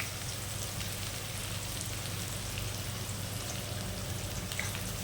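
Chopped onion and garlic with black cumin sizzle in hot oil in a pan, a dense, steady crackling hiss that carries on evenly without pause and with no voices over it.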